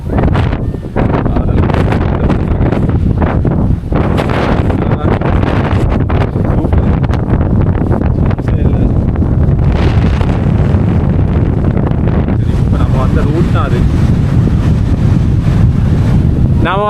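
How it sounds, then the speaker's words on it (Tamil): Strong wind buffets the microphone at the Sigiriya rock fortress in Sri Lanka, a loud continuous roaring rumble with gusty swells that lasts the whole stretch. "காற்று ரொம்ப ஹெவியாக அடிக்குது."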